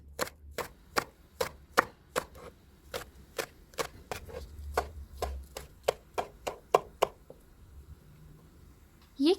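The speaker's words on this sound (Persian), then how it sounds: "چند شاخه پیازچه رو خرد کنید." A knife chops green onions (scallions) on a cutting board in a steady series of about twenty crisp, evenly spaced taps, close and clear in a quiet kitchen.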